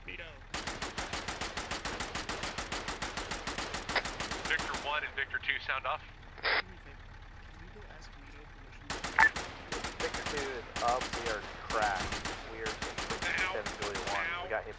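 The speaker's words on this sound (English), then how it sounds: "Just that whole hedgerow on the left, pepper it with MG fire." Machine gun fire raking a hedgerow in a video game set in a battle between Canadian riflemen and German infantry: long rapid bursts, loud and close, broken by brief pauses, clanks and a short tone, then more sustained firing.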